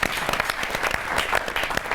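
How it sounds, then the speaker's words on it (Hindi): An audience at a televised Holi festival programme gives loud applause, with distinct sharp claps standing out from a dense, lively crowd clapping for about two seconds. "तो जोरदार तालियां"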